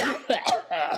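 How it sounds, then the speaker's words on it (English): A few quick, rough coughs in close succession, loud and near. "If you cough on my laptop, dog"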